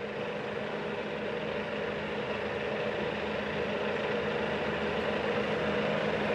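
TOS FA5V vertical milling machine running at 280 rpm, a steady, even mechanical hum with a constant low whir, moderately loud and close, no voices.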